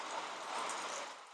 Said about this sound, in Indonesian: Hebat banget ini hujannya.